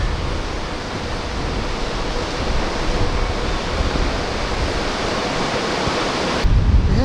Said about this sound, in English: We have a lot of rapids in the middle, but calling this falls I think is a bit of a stretch.